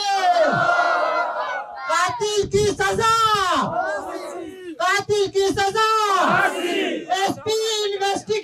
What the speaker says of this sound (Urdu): اس موقع پر مظاہرین نے پولیس اور زیر انتظامیہ کے خلاف نعرے بازی بھی کی